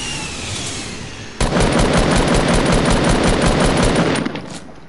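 Sustained automatic gunfire in a shooter video game bursts in abruptly and rattles on loud and close for about three seconds as a dense, rapid stream of shots, with no talking.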